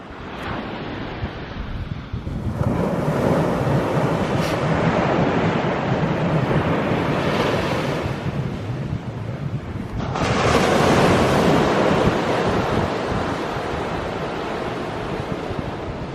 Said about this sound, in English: We have made it to the ocean.